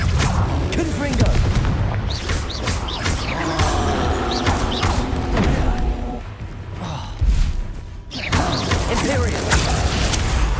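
Booming fire spell explosions from the Hogwarts Legacy video game, the Confringo blast among them, land in a dense run of crashes and impacts over rumbling game audio, with a brief dip around the middle.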